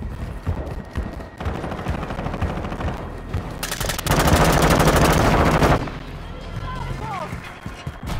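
Rapid automatic weapon fire in Call of Duty Modern Warfare, a dense sustained burst of shots near and loud for about two seconds, with scattered other gunfire and shouted voices around it.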